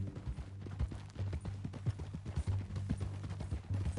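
Horse hooves clip-clop in a quick, uneven rhythm in Red Dead Redemption 2, a series of close, distinct thuds that stay faint and carry on alone for a few seconds.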